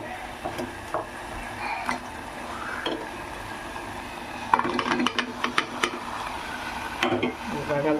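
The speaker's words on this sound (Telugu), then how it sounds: "బంగాళదుంపలు వేసుకొని బాగా కలుపుకున్నాం" Potatoes are tipped into a pot of chilli-spiced kurma base and stirred, with a soft sizzle and clinks of a spoon against the pot, plus a cluster of sharper scraping knocks midway, in a quiet kitchen.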